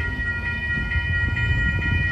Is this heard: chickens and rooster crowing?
no